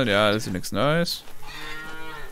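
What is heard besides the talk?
cow mooing in video game Farmer's Dynasty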